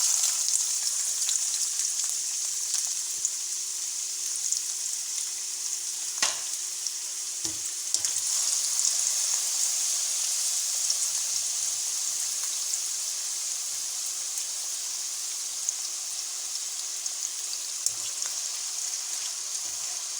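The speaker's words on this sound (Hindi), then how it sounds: "ये आलू हमारे फ्राई हो रहे हैं" Two medium-sized potatoes, cut into pieces, fry in hot oil with a steady, dense sizzle that runs the whole time at an even level, with a few faint stirring knocks near the start and later on.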